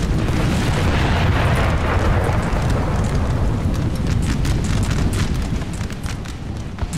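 A massed volley from French line infantry in Napoleon Total War rolls out as one dense, sustained roar of overlapping musket fire, heavy in the low end and holding loud for several seconds before easing slightly at the close.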